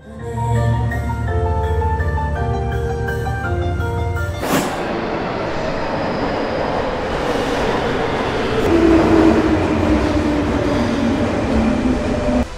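A Paris metro train at Concorde station pulls in. A loud screech of wheels and brakes gives way to a sharp burst of air and then a steady, close rumble of the cars and track noise. No one speaks.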